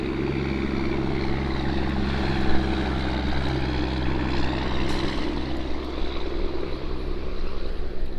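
A diesel boat motoring past on Otisco Lake in New York, a steady low droning engine rumble that holds loud and close for several seconds with no voices over it.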